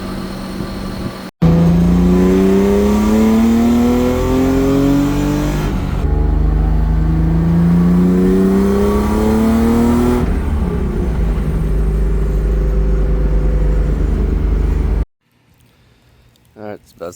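A drift car, freshly fixed idle air control valve, pulls away with its engine rising through gears in long climbing revs, a shift break midway, loud and close from inside before cutting off abruptly.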